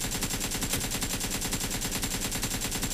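AKM rifle fire in the PUBG New State video game: a rapid, unbroken stream of automatic shots, loud and close, keeping a steady, dense rhythm throughout with no voices.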